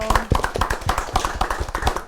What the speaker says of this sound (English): A round of applause for our guests, Sol and Daryl.